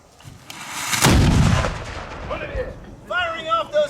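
A single heavy cannon blast at Fort Ticonderoga booms loudly and rolls away over about a second, followed by fainter echoes and brief voices reacting afterward.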